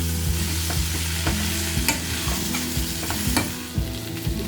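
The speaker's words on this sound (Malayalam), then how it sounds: "ഒരു 3-4 മിനിറ്റ് ഇതിൽ കിടന്നൊന്ന് വഴറ്റിയെടുക്കണം" Potatoes with green chilies and curry leaves sizzle steadily in a pan, stirred by a utensil that makes repeated sharp scraping clicks over the continuous close frying hiss, with no voices.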